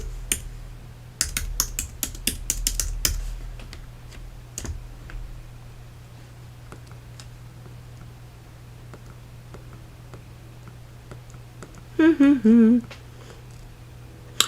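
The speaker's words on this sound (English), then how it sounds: "Am I typing her name wrong?" Typing on a computer keyboard: a quick cluster of key clicks early on, then sparse isolated taps over a steady low hum, with a brief squeaky purr-like sound near the end.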